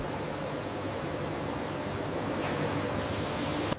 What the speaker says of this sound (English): The slices pass through a multi-level rinse system.